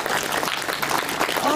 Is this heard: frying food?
no